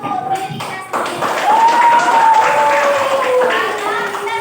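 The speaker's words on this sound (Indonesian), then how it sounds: "mari kita tepuk tangan untuk diri kita sendiri." A group of teachers in a classroom training session clap their hands together after building a breathing-system teaching model, a dense patter of claps with voices talking and calling out over it.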